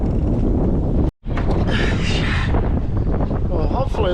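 Wind buffets the microphone on a sailboat out on open water, a loud continuous rushing roar with one brief dropout, while people talk over it.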